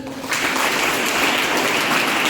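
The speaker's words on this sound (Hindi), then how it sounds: "तो पहले ताली अपने लिए बजाइए जरा" Applause breaks out from an audience at a school event after a guest speaker asks them to clap for themselves, a dense, steady wash of many hands that starts abruptly and holds loud and close.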